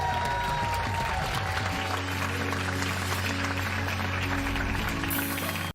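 Television studio audience applauds loudly and continuously, a thick wash of clapping that holds steady and then cuts off abruptly at the end.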